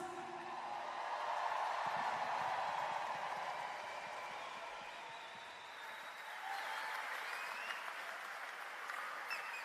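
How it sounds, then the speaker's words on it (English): Crowd applauding flag bearers at a public event, a broad sustained round of clapping that swells, eases slightly midway and carries on to the end, with some distant voices. "That was a great round of applause for the flag bearers"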